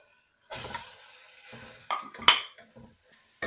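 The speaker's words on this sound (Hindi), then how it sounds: "चिकन को मैं कलर चेंज हो जाने तक पका लूंगी।" Small chicken pieces cook in oil with garlic and ginger for a hot and sour soup, with clanking utensils against the pan, stirring scrapes and a soft sizzle underneath.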